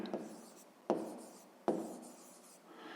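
A pen or pencil writes a fraction by hand on paper, making soft scratchy strokes close by, with a few sharper onsets as new strokes begin, alone without talk.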